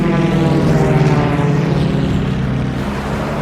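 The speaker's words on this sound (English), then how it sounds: "Odette and Guynemer roll right and pull into each other again" A loud, steady propeller-engine drone from World War I fighter planes maneuvering in a dogfight, rolling and turning, with the pitch shifting slightly as the aircraft bank.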